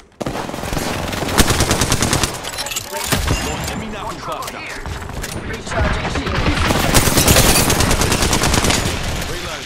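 Sustained video game gunfire aimed at the player rattles in long automatic bursts with short pauses, loud and close, while people talk over the shooting.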